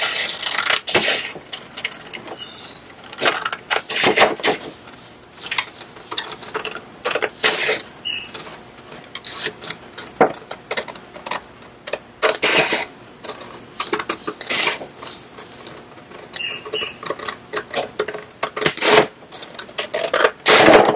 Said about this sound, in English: But I am going to cut the white piece off of this side.